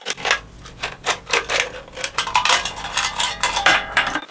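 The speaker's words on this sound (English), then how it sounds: "He grabs the can all crushed like this, all old, and then he takes this area here, look, from the bottom part of the can, and makes a cut" Scissors snip through the bottom of a crushed, old aluminum Coke can, giving a close, steady series of sharp metallic crunches and scrapes, roughly two per second, with no talking.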